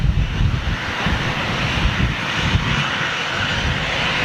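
Airbus A320 jet engines roaring steadily at close range at Manchester Airport, a loud continuous rumble with wind buffeting the microphone throughout.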